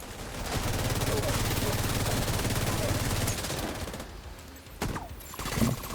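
Dense bursts of rapid automatic gunfire in a first-person shooter video game, loud and sustained for a few seconds, then breaking into scattered shots and game effects.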